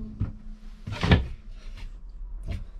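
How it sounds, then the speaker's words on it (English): A pull-out drawer in a 2022 Lance 1172 truck camper slides open and shut nearby, giving a soft thump, a louder sliding rumble with a knock, then a final bump as it closes in a quiet interior. "here's my pull-out drawer demonstration"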